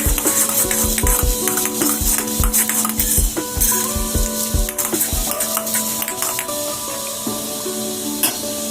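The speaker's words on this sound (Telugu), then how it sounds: "కొద్దిగా మినపప్పు, కలర్ మారలి 1 టీ స్పూన్ వరకు వేసాను. కొంచెం ఫ్రై అవ్వాలి." Urad dal and cumin fry in oil in a pan, a bright crackling sizzle with many sharp pops and spoon clinks, busiest at first and then settling into a steadier hiss.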